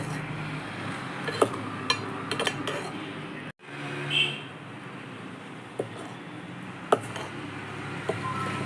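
Buttermilk and curd being mixed with a spoon in a bowl, soft liquid swishing punctuated by scattered light clinks of metal against the bowl, close and quiet with no talking.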